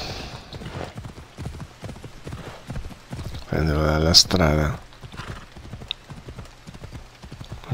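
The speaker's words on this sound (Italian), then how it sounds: "Il cavallo ha smesso di galoppare." Horse hooves clip-clopping at a gallop in Assassin's Creed Odyssey, a steady rhythmic beat under continuous talk, with a brief whinny partway through.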